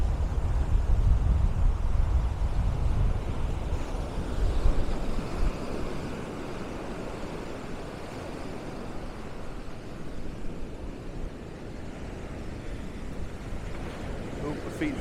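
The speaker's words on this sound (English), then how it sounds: "waves that come up a bit further than normal, soaking my feet" Caribbean sea waves wash up a Punta Cana beach in the Dominican Republic, a steady close broadband rush of surf that swells slightly early on, then settles.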